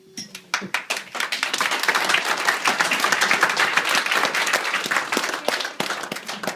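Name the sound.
applause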